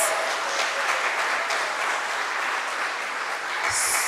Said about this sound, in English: We deserve a round of applause.